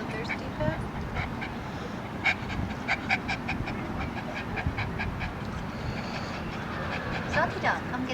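A dog pants steadily at close range after a kayak ride near Oceanside, its quick breaths repeating through a dense, noisy background with scattered clicks and faint voices.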